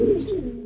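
A single short, soft saddle pigeon coo, low and throaty, lasting under a second with no other sounds.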